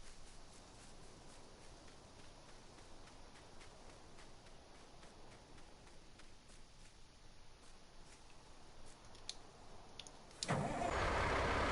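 A truck engine in Farming Simulator 19 on the Blue Mountain Valley map cranks and catches near the end, jumping from faint background hum to a steady, loud idle.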